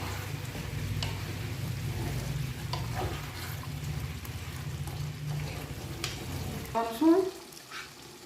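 A curry of shrimp, figs and potatoes sizzles steadily in a pan while being stirred, ending with a few louder scrapes and clatters of the spoon against the pan.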